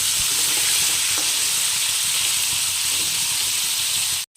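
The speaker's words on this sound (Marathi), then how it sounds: "कारल्याचे तुकडे टाकून घेतले तेलामध्ये तळायसाठी। फुल गॅसवर हे कारल्याचे तुकडे ते तळून घ्यायचे" Pieces of bitter gourd fry in hot oil over a high gas flame, giving a loud, continuous sizzle with faint stirring scrapes. The sizzle runs without a break until it cuts off abruptly.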